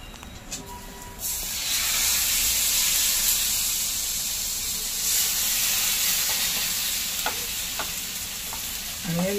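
Thin ghavan rice-crepe batter, a traditional Konkan breakfast, hits a hot griddle and bursts into a loud, sustained sizzle and hiss, with a few light scraping ticks as it is spread.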